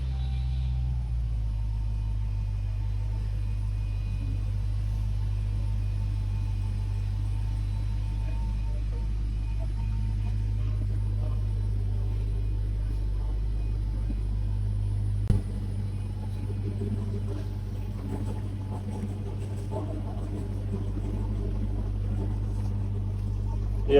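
A Dodge Hellcat Redeye's engine rumbles low and steady, a deep continuous drone that shifts slightly partway through as the car gets moving, with no talking over it.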